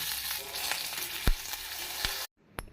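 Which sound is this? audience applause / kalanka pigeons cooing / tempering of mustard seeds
tempering of mustard seeds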